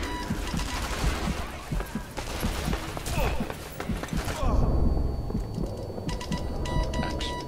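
Gunfire in the co-op video game Sniper Elite V2, with rapid overlapping shots and impacts forming a busy, loud barrage that thins out into scattered sharper cracks near the end, with game effects throughout.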